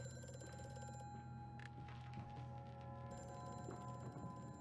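Telephone ringing inside the Amnesia horror video game, a steady bell-like electronic ring sustained through the moment over a dense, moody game backdrop, fairly faint and with no voices.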